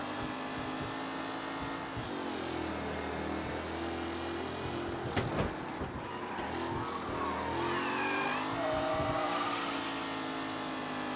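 Race cars in Mafia: Definitive Edition scream past close by. Engine notes rise and fall as they pass, with a sharp swell midway, and the pitch climbs and shifts through gears near the end.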